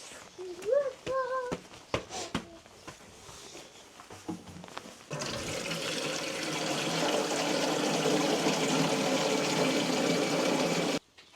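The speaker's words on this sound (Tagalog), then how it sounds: "kukuha tayo doon sa water faucet" Water runs from an outdoor faucet, a steady, fairly loud rush that starts suddenly around five seconds and continues for six more. Brief knocks and a short vocal sound come before it.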